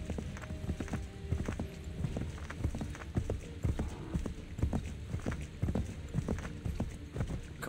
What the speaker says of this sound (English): Come on, you fucking horse.